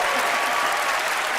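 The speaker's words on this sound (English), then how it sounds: "Another round of applause for Gianni." Studio audience applause at a magic show taping, a dense, steady wash of clapping that fills the whole short moment at even loudness.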